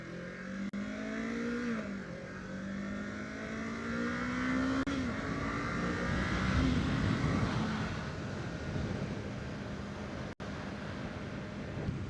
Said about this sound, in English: Give it one little quick rip through the gears.